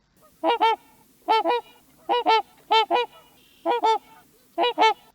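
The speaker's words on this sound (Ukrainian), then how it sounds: "Так, ви вгадали, це лебеді" Swans call in paired honking notes, repeated six times at a steady pace, clear and fairly close over a quiet background.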